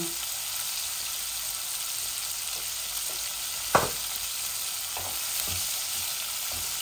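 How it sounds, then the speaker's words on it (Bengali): Pieces of rohu fish fry in oil in a pan, giving a steady close sizzle broken by a few soft clinks from stirring. "মাছগুলা ভাজা হয়ে যাক, তারপরে মাছগুলা লাড়িয়া নামাই দিব"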